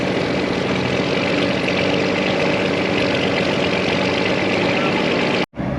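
A Massey combine harvester engine with an electric carburetor idles steadily, a loud continuous low rumble that holds even throughout, then cuts briefly near the end.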